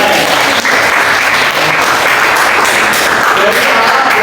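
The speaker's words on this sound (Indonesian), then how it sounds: "Kita kasih tepuk tangan ya," Classroom applause for a student group after a demonstration in a school lesson on the respiratory system, loud continuous clapping from many students filling the room throughout, with faint voices mixed in.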